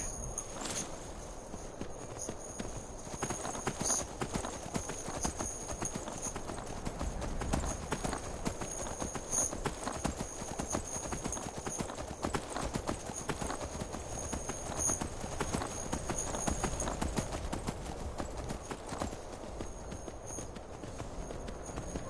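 A horse's hooves clip-clop steadily and quickly in Skyrim Special Edition, a continuous rhythmic drumming of hoofbeats over a constant background hum, with no talk.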